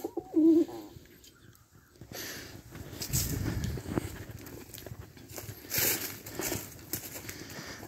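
Low, soft cooing of pigeons a short distance away in southeast Missouri, with rustling and faint shuffling in a quiet outdoor setting.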